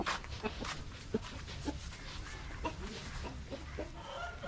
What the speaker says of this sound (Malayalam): ഇതെല്ലാം നമ്മളിപ്പം കുടികളിൽ കാണുന്ന കുറേ അടിപൊളി പക്ഷികളാണ് കേട്ടോ